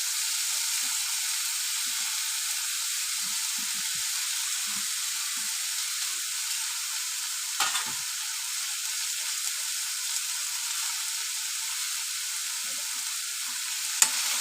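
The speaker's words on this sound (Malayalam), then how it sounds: "എടുത്തു വെച്ചിരിക്കുന്ന വെജിറ്റബിൾസ് എല്ലാം ഇട്ടൊന്ന് വഴറ്റി കൊടുക്കുക" Vegetables sautéing in a kadai for Kerala-style chicken stew give a steady, close sizzle and hiss throughout, with a brief scrape of stirring near the middle and a sharp tap at the end.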